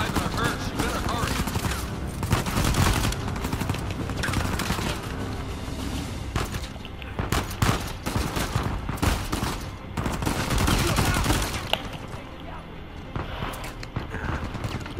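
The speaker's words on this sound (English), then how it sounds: "Who's shooting me?" Bursts of gunfire in the video game Uncharted 4 crackle almost continuously over a busy game soundtrack, loud and dense throughout with scattered mechanical clatter.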